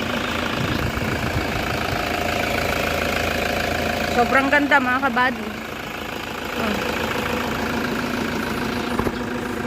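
A first-owner Toyota Fortuner 4x4 engine idles in a steady, even rumble close by, while someone talks over it throughout.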